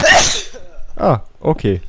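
A loud, sharp sneeze bursts out close to the microphone during a gaming session, followed by someone speaking a couple of short words.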